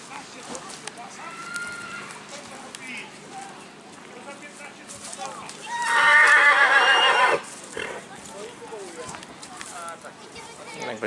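At a Polish horse parade, a horse lets out a loud, clear whinny that lasts a second or so. It sits over a steady outdoor murmur of crowd chatter and faint movement.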